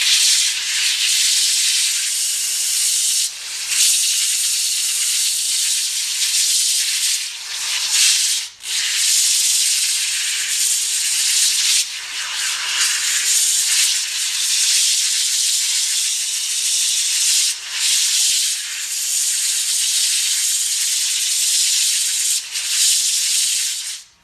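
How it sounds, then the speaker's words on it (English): Diamond polishing pads wet-sand a cast concrete countertop with a continuous loud hissing rasp, broken by several brief pauses as the pad lifts or shifts, close and without any talk. "what I'll do is sand this more and zoom in"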